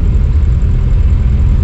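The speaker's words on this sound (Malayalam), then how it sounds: "വണ്ടിക്ക് സ്പീഡ് കൂട്ടിയാലും ശബ്ദമാണ് ആദ്യം കൂടുന്നത്." A 1965 vintage car is driven slowly through the Kowdiar Palace compound in Thiruvananthapuram, its engine giving a loud, close, steady low rumble with a slight uneven throb and no voices.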